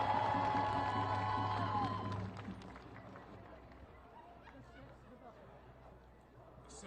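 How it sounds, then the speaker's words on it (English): A crowd at an outdoor march for Palestine cheers and claps, loud at first and then fading to a murmur of chatter and scattered voices, with amplified tones ringing early on. "Please give him a round of applause"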